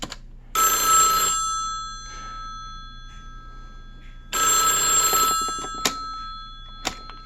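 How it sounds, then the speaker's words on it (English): A home landline telephone rings in two long electronic bursts about four seconds apart, loud and close, with a few sharp clicks after the second ring. "So I actually we'll call one of the other lines here just so you guys can hear the phone ring."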